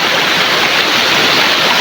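River flowing near farm fields, a loud, steady rushing wash of water close by, continuous and unbroken with no voices.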